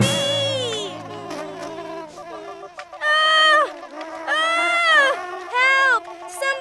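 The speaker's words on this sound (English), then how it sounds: "There's a bee who's trying to sting me!" A cartoon bee buzzes in a children's animated shepherd story, with rising and falling whiny tones in repeated loud bursts, mixed with an animated character's bleating voice.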